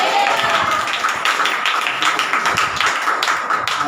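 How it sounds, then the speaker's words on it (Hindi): A church congregation claps hands together in a fast, steady stream of sharp overlapping claps that carries on evenly throughout, with no talking over it. "ये विश्वास के साथ ताली बजाइए एक बार"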